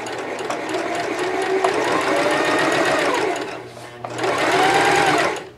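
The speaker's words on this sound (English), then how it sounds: "Now let me sew just to make sure I got that back in." A Singer 5554 heavy-duty sewing machine stitches fabric for mask making with a steady, close mechanical whir and rapid needle chatter, pausing briefly before starting again in a second burst.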